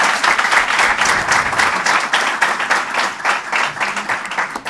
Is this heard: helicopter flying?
no